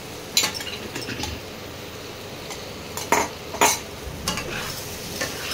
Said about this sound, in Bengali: ভাজা আলুগুলো এবার মশলার মধ্যে ভালো করে মিশিয়ে দিচ্ছি।